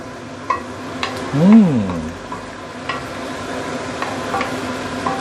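Tofu stew with minced meat simmering and sizzling in a pan over medium-high heat, with a steady frying hiss, a few light utensil clicks and one brief stir or scrape near the middle, close by with no talk.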